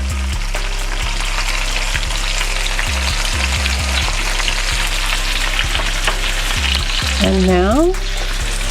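Salmon fillets with garlic frying on a stovetop give a loud, steady, close sizzle throughout, with a low hum underneath and a brief voice near the end.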